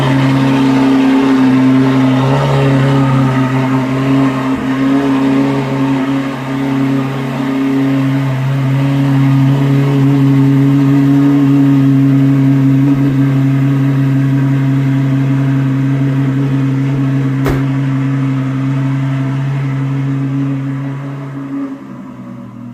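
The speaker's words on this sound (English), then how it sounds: "In case you were wondering, that was a cold start" A Ferrari GTC4Lusso V12 idling after a cold start, a loud, steady low drone with strong, even harmonics that holds for over twenty seconds, then softens slightly at the end.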